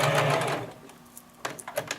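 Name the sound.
sewing machine sewing a seam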